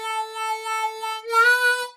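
Harmonica playing a bluesy solo line, sustained reedy notes held steady then swelling louder and brighter near the end, close and alone.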